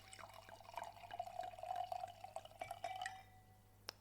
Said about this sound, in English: I'm just going to pour a little Gewürz.